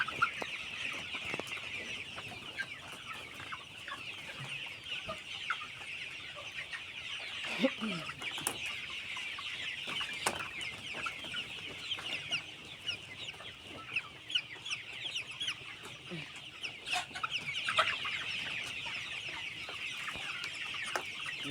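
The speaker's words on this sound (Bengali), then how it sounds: "বনরাজ মুরগি" Banraj chickens in a poultry shed cluck continuously, a busy flock heard close with scattered sharper calls and faint background noise, no talk.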